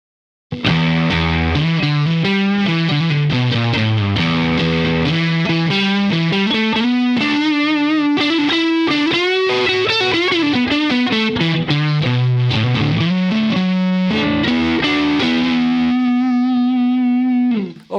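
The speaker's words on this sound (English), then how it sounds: "Let's plug it in the Imperial MK2 tube amp just to hear how it sounds with the tubes." Electric guitar run through a JHS 424 Gain Stage pedal into an Imperial MK2 tube amp, playing a continuous distorted lo-fi melodic line of gliding sustained notes, loud and upfront with no talking.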